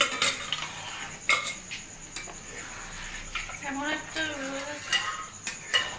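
Ghugni being stirred in a cooking pan, with intermittent scraping and metallic clinks of a spoon against the pan over a faint sizzle, and a voice speaking briefly partway through, close and moderately loud.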